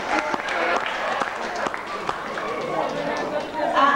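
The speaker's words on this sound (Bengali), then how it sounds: "সবাই বড় একটা হাততালি মেঘনার জন্য।" An audience at a Bijoy Dibas cultural program in New York claps in scattered, lively applause that continues throughout, mixed with voices and hall noise.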